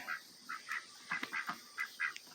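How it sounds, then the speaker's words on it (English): Faint ducks quack in short, uneven bursts on a rainy morning, several calls overlapping at a distance. "What are you ducks doing this morning?"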